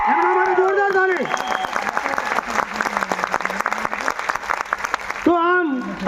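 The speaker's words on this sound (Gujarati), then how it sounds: "એમના માટે જોરદાર તાળી" An audience at a stage event applauding loudly, with dense sustained clapping, while a voice speaks over the start and end of the applause.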